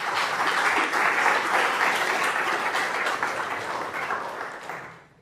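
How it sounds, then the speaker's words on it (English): A conference audience at a scientific Python event applauds to welcome a speaker, dense steady clapping from a full room that holds for several seconds and then fades out. "let's give a big round of applause for him"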